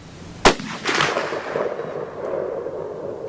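A single sharp shot from a Romanian M56 SKS rifle at an outdoor range, loud and close, followed by a rolling echo that trails off. A fainter second report sounds about half a second later.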